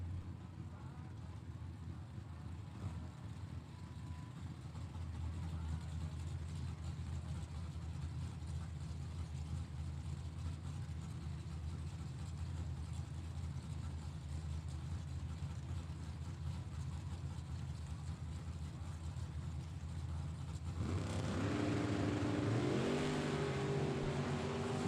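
A drag race with a Camaro on a strip: a steady engine drone builds to a louder, harsher roar near the end as the cars go by, with a faint voice in the background.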